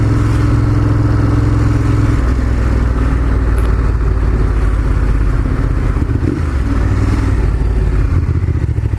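A remapped Ducati Monster 1200S engine idles at low RPM with a loud, steady, rumbling throb close by and a slight rise in pitch partway through.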